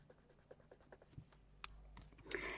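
Coloured pencils on sketch paper, used for mixing colours: faint, close, irregular scratchy strokes and taps in a quiet room, ending in a brief louder rustle.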